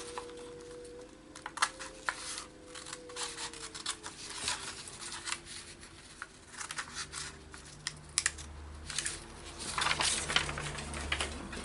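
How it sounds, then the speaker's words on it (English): Scissors snip a word out of a sheet of junk mail paper, a quiet close series of irregular crisp cuts and soft paper rustling. "So I'm just going to cut that word out now."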